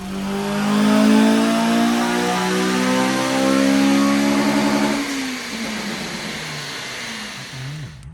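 A Honda Civic FN2 Type R engine with a Tegiwa 70mm cat-back exhaust revs hard on a dyno power run, climbing steadily in pitch, then drops to a rough idle after about five seconds, loud and close.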